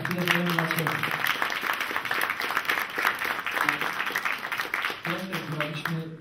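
Steady applause from a concert audience for a singer fills the whole stretch, a dense, continuous patter with voices and some music rising over it at the start and end.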